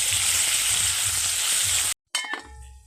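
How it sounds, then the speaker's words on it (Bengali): Chicken tikka cooks in a pan over medium heat, a loud close steady sizzle and fry that cuts out briefly, then returns with a few light metallic clinks. "এইবার উনুনের আঁচটাকে মিডিয়াম রেখে চিকেনটাকে রান্না করে নেব"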